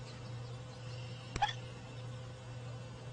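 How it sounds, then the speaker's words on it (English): One quick hiccup from a baby bat, a short high burst rising from a quiet background with a constant low hum. "I gave a baby bat the hiccups."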